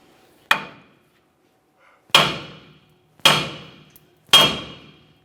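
Four sharp metallic hammer blows strike the steering knuckle of a 1999-2006 Chevrolet Silverado 1500 to break loose the upper ball joint, each hit ringing briefly and loud, close up, spaced about a second apart.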